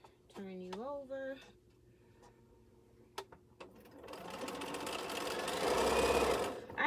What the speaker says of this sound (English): It's so nice to sew this on my Bernina.